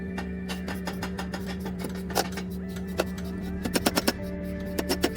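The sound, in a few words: hammer strikes seating steering box bearing race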